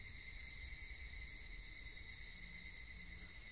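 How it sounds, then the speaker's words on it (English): Cicadas in the visual novel Higurashi drone in a steady, unbroken high buzz, faint and constant with no other sounds. "Only the cry of the cicadas remained,"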